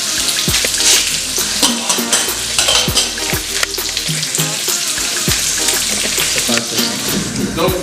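Potatoes cook in a pan on a stove, sizzling and frying loudly and continuously, with repeated stirring, utensil clinks and pot knocks close by.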